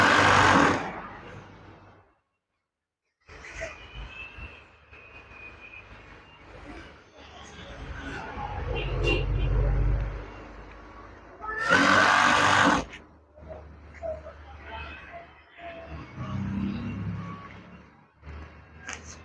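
A sewing machine stitching along the top of a curtain in bursts of mechanical whirring, broken by brief pauses and louder handling noises, with some voices in the background.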